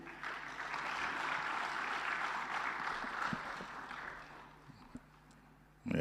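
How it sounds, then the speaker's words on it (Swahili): Sustained applause from an audience at a Tanzanian state event where the President receives the CAG audit report, steady and fairly distant, fading near the end. "Makofi tena mengi."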